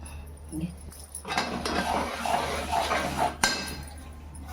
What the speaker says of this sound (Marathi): हे शेंगदाणे आपण या तिळात मिक्स करून घेऊ